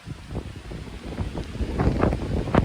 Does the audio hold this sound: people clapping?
no